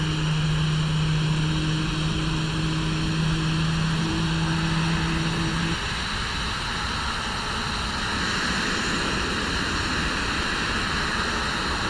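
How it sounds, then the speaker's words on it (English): Engine number 2 of an Airbus A321neo spools up in a flight simulator with default stock sounds, a loud, steady turbine roar and whine that holds throughout. "Enjoy the spool up of engine number 2."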